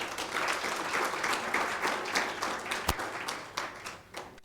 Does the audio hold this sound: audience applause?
yes